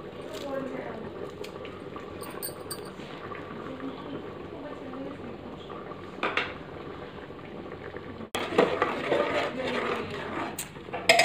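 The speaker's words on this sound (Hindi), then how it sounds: "तो ये देखिए 10 मिनट हो गए हैं उबाल आते हुए।" Dal makhani bubbles on a steady boil in a cooker, a soft continuous simmering and popping under someone speaking Hindi, with a brief clatter near the end.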